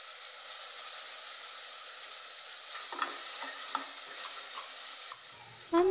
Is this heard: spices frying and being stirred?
yes